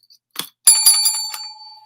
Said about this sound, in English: Oh, look at that. I have a bell.